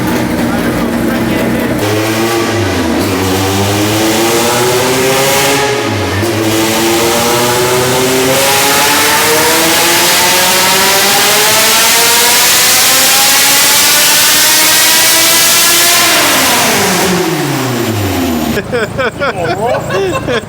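A K-series all-motor Honda Civic EG hatchback screams on a dyno, loud and close, revving up in long sweeping pulls with brief dips, climbing to a sustained high-rpm wail before dropping off near the end.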